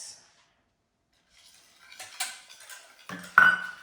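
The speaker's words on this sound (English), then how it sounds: "Keep mixing. Keep stirring it." Millet flour banana bread batter being stirred in a bowl, with a few soft scrapes and clinks of utensil against the dish after a quiet start, building to a sharper knock near the end.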